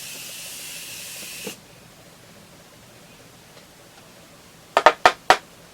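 A makeup setting spray hisses in a long steady burst lasting over a second, then after a pause three short sharp spritzes fire in quick succession, close and loud.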